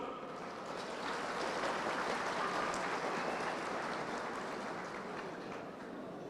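A large crowd at a big hometown association gathering in Kayseri applauds in a continuous dense roar of clapping, sustained evenly and heard from within the hall.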